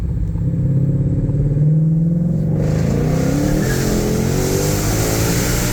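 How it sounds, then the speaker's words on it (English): A Ford GT500 gears down and then accelerates, its engine droning loud and close with a rising rev after the shift and a steady, rough exhaust tone throughout. "This car just gears down perfectly in its own."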